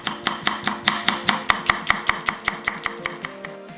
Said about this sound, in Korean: 풋고추 1개는 얇게 슬라이스해서